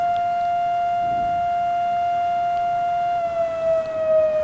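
A long, steady siren tone in the fire-response game EmergeNYC holds almost level for several seconds and then dips slightly near the end, with a faint background hum and no speech.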